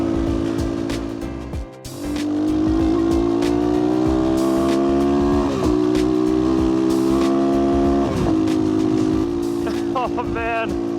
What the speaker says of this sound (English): that exhaust just sounds so bad